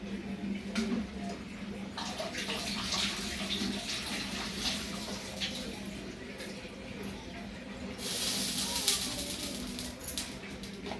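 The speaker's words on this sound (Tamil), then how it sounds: "கொஞ்சோண்டு கொத்தமல்லி அலசி போட்டுக்கலாம்" Fresh coriander leaves being rinsed in water for a coconut-free chutney, a steady running and splashing wash close by with brief louder swishes, continuing throughout without talk.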